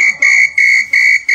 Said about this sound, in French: Siffle encore.